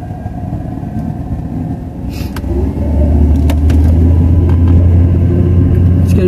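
Car rumbling along on a drive, low steady engine and road drone close inside the cabin, building slightly in loudness partway through.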